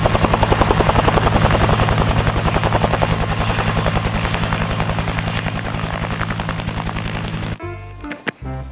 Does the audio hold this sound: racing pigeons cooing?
no